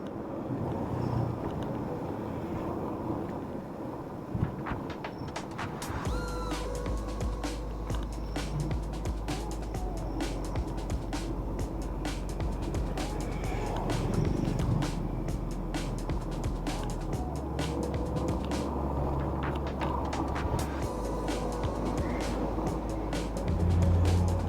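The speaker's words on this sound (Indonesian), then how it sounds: "di dalam mobil di depan ini penumpangnya penuh, jadi agak kesusahan untuk nanjak" Car engine labouring uphill on a slope of Mount Merapi with a full load of passengers, a steady droning rumble mixed with wind buffeting on the microphone throughout.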